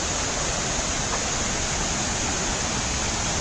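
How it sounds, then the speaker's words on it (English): Buttermilk Falls waterfall in Homewood pours in a steady, dense broadband roar, constant and unbroken with no voices over it. "And there's the waterfall."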